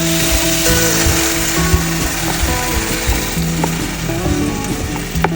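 Spicy beef and mushrooms stir-frying in a pan give a steady, loud sizzle with scattered clicks and scrapes of stirring, and no voices over it.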